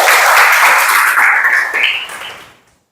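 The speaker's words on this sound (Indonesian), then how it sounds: "beri tepuk tangan buat Tuhan kita." A group at a church lesson claps together, a thick, bright wash of hands beating loudly and continuously before tapering off to silence.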